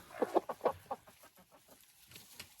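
A broody hen clucks close by in a run, several quick, distinct clucks at first, then softer scattered clucking.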